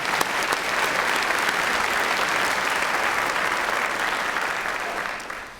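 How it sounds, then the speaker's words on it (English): Steady, dense applause from a large audience fills a Clemson doctoral hooding ceremony hall, honoring graduate faculty; the clapping holds evenly loud for several seconds before tapering slightly at the end. "Yes, let's give them a round of applause."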